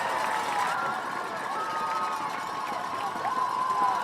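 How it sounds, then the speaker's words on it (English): Stadium crowd at a high school football game, the Cowbell Classic at Bella Vista High School, makes a steady broad roar of cheering and shouting from both sides of the stands, continuous and fairly distant without clear individual voices. "Crowd getting into it."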